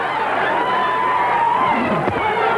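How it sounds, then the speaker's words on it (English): A crowd at a boxing match, a continuous roar of cheering and chatter filling the arena, steady and fairly loud, with a single voice rising above it. "Well, the crowd is thoroughly enjoying this."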